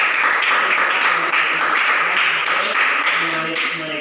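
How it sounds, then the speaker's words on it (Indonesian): A classroom audience claps for a student group that has just presented its analysis, a steady, dense patter of hands filling the whole stretch, with voices faintly audible underneath. "Kita berikan tepuk tangan kepada"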